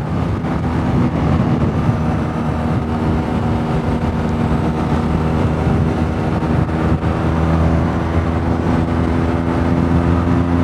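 A BMW R nineT Pure motorcycle ridden on a demo ride, its engine droning steadily and loudly with wind rush throughout, no voices.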